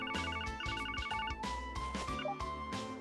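A phone rings inside the video game Trails From Zero, a repeating electronic ringtone melody with steady bright chirping tones over game music, loud and close, with no talk.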